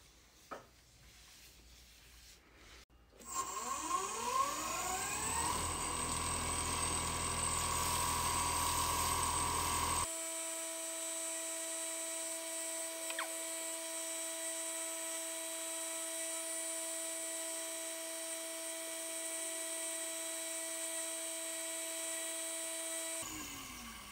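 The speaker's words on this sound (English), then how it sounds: "And turn my lathe to 2500 RPM." A wood lathe spinning at 2500 RPM while resin is polished with microfine abrasive paste, a thin high whine that starts up after a few seconds and holds steady, fairly quiet and without talk.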